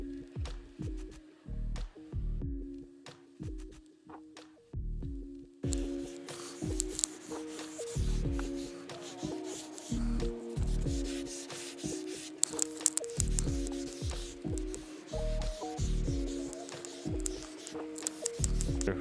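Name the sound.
sanding clear coat on motorcycle fuel tank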